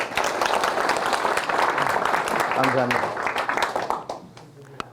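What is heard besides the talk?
audience applause at a farming lecture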